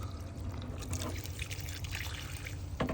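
Water poured onto a newly potted basil plant, a soft continuous trickle and splash into the soil, close and quiet, with a brief louder gush near the end.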